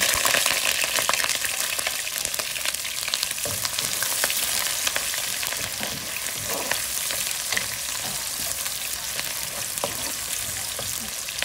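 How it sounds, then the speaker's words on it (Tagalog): Onions sauté in a pan for biryani, a continuous close sizzle broken by frequent small clicks and scrapes of stirring, steady throughout with no voices. "gigisa po ulit tayo ng sibuyas guys"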